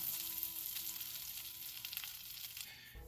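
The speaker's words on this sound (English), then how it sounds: "we're basically kind of browning this tarragon" Tarragon browns in a hot pan, giving a steady, close, bright sizzle and crackle that carries evenly before dropping off at the very end.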